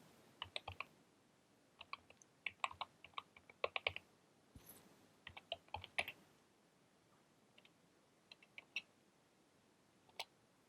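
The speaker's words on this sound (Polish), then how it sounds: "Przede wszystkim wpisujemy adres strony internetowej" Computer keyboard keys clicking in quick irregular bursts as a web address is typed, close and quiet, with pauses between groups of keystrokes.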